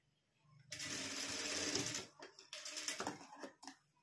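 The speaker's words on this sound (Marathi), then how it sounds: "तर आता आपण ही टिप मारून घेऊ अशी, इथं कडाला टिप मारून घ्यायची आहे" A sewing machine stitches along the edge of blouse fabric, first in a sustained run of rapid stitching and then in shorter bursts with brief pauses. Close and fairly loud, with no talk.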